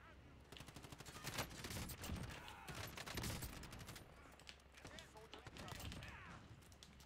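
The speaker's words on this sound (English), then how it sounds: "Damn, they're shooting someone from the sky." Gunfire in the Call of Duty Warzone video game: a dense crackle of rapid shots rattles over several seconds, layered with other game noise and mixed with faint talk.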